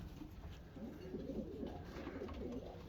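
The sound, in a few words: pigeons cooing in a breeding loft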